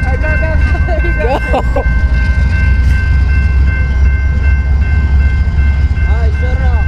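BNSF and Ferromex locomotives switching rail cars in Slaton, Texas, giving a loud, steady low rumble with squealing wheel and brake tones, while voices are heard throughout.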